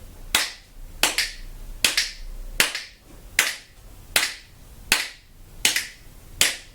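Sharp single claps land evenly about every 0.65 seconds in a steady counted beat during a Grade 1 music theory lesson on beats and bars, each one crisp and close with quiet gaps between.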